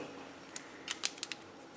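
Scissors snip through a leftover zipper piece while finishing a handmade mini album, giving five or six short, crisp clicks in an irregular rhythm, close and fairly quiet against a faint room hiss.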